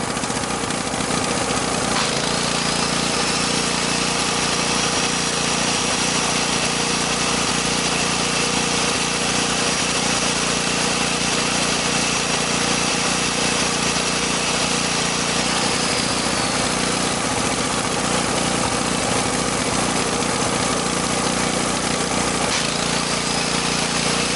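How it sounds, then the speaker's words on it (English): A gasoline generator runs loud and steady at close range with an angle grinder engaged as a load, its constant engine drone joined by a high whine that holds and then drops away near the end. "Check out what happens when I engage this grinder"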